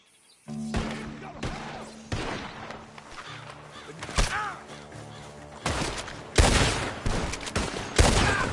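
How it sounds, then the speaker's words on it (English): Bursts of rapid gunfire in the video game Red Dead ring out repeatedly, loud sharp volleys with booming impacts and pauses between them. "The gunshots are coming from that bar!"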